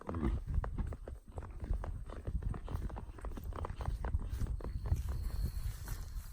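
A horse walks at an easy pace, its hooves clopping on the ground in a steady, close rhythm while it rests from work, with no talking over it.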